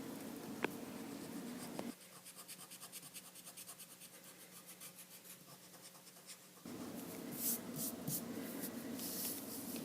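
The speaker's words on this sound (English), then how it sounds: "And then I can erase whatever is left over." Pencil drawing perspective lines on paper and erasing leftovers, with soft scratchy strokes, a quieter stretch of light writing, then brisk rubbing bursts, close and faint with no talk.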